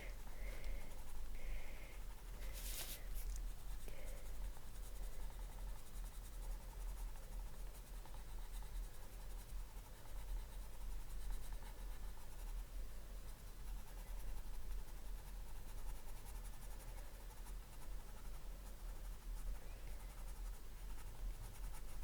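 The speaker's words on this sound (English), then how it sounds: "You hear me scratching away on the paper there? Scratch, scratch, scratch, scratch." Copic and Pablo markers scratch steadily across paper during coloring, a faint continuous rubbing with small strokes, close up and quiet, with brief sniffing near the start.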